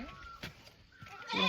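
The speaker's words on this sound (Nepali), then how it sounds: "उता बाख्रा हेर्नु कति धेरै बाख्रा।" Goats bleat at a distance on a rural hillside, a few faint wavering calls separated by brief gaps, with a louder bleat near the end.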